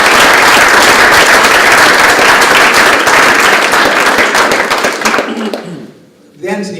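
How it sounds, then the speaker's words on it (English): Press conference applause for boxers Jorge Linares and Anthony Crolla; a dense, loud room-filling wall of clapping that carries on for several seconds, then fades quickly, with a voice starting up right after. "please let's have a round of applause for Jorge Linares and Anthony Crolla"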